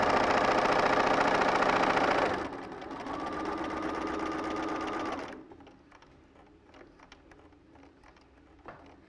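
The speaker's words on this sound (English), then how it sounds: "If you're lucky enough to have the dual feed function on your sewing machine, you can adjust that and get it to do it for you" A sewing machine stitches quilt pieces for a log cabin quilt in a loud, rapid, continuous run for about two seconds. It then drops to a quieter motor hum and fades to faint clicks and room noise.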